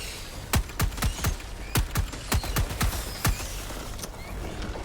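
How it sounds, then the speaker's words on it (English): A rapid burst of missile launches in the Helldivers video game comes as a string of sharp, loud thumps in quick, slightly uneven succession over a constant background rumble. "when you have the burst option out, you have 7 different missiles to fire, and they fire very, very fast"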